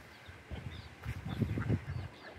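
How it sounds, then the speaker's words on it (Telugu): Adult ducks and their ducklings quack close by, a cluster of short nasal calls rising and overlapping in the middle, over soft outdoor background noise. "ఈ బాతుపిల్లలు కూడా ఆడితో పాటు పెద్ద బాతులతో పాటు కలిసి తిరిగేస్తున్నాయండి"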